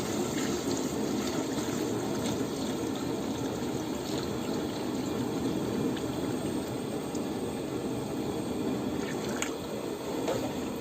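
Water pours steadily into a pot of Arabic-style chicken mandi biryani, a continuous broadband splashing rush that runs the full length, close and fairly loud, with no talking.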